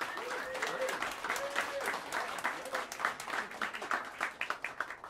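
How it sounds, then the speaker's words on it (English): Warm audience applause for a drummer at the Smalls jazz club, many hands clapping continuously at moderate distance, a faint voice briefly audible beneath, with individual claps growing more distinct as it tapers. "give a warm round of applause for the great Daryl Green"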